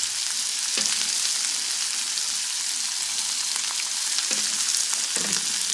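Salted vegetables fry in a pan for a drumstick curd pachadi, a loud, dense and steady sizzle close up, with a few faint stirring scrapes.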